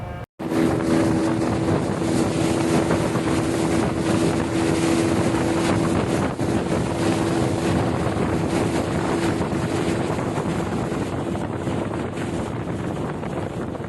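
A speedboat runs along a coastal river, its motor a loud, steady roar heard close up for the whole stretch, thick with wind buffeting and rushing water, no voices.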